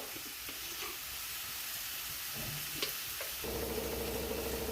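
Chili powder and turmeric powder frying in hot oil for a soybean masala, giving a steady close sizzle that thickens and grows louder near the end, with faint stirring scrapes and no voices.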